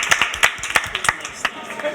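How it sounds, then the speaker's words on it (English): An audience claps in a quick, uneven patter of individual hand claps, fairly close, with people talking over it. "Big round of applause for you."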